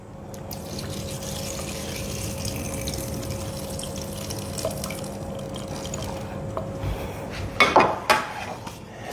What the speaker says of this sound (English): I'm going to drain the water from my quinoa.